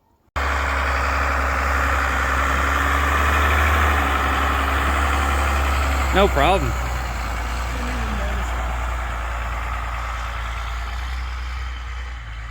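A first-generation Cummins diesel pickup truck idles steadily with a quiet exhaust and a low, even rumble throughout, while a person briefly speaks over the engine noise partway through.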